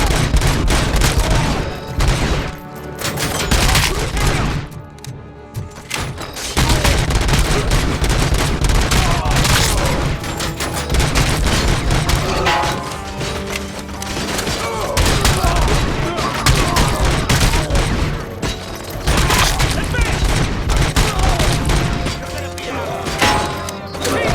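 Shootout in RoboCop: Rogue City, with loud, nearly nonstop gunfire, rapid automatic bursts mixed with booms and impact crashes, close and heavy, pausing only briefly before resuming, with occasional voices underneath.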